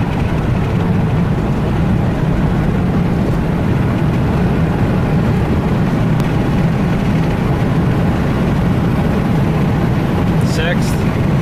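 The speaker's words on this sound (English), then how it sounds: "this thing revs pretty good. Shifts really nice and firm." A 6.7L Cummins diesel truck engine with a rebuilt 68RFE transmission drones loudly and continuously, its low rumble rising and falling through firm gear changes, with a brief faint squeal near the end.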